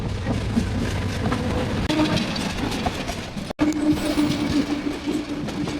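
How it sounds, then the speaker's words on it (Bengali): A train runs on a railway line near Chattogram and Cox's Bazar routes, a steady loud rumble with rolling clatter that builds throughout, heard alone without talk. "এবং আমার সামনে এই দিকে একটা ট্রেন আসছে"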